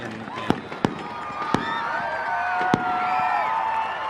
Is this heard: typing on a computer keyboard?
no